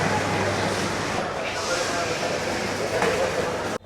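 Cox's Bazar Express train standing at Kamalapur railway station in Dhaka, a steady broad rumble and hiss of the train close by, with people talking over it.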